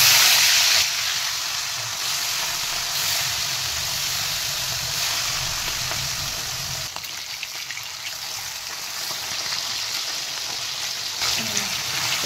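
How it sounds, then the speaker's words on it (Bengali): Pieces of hilsa fish frying in hot oil give a steady, dense sizzle that crackles on without pause for over ten seconds, close and fairly loud. "আমার তেলটা গরম হয়ে গেছে, মাছটা অল্প ভাজবো"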